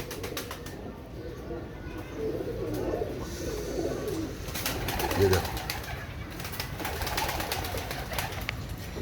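Soft cooing of Ali Wale breed pigeons murmurs in the background as someone speaks briefly, with low outdoor ambience throughout.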